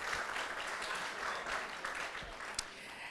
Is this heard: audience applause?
yes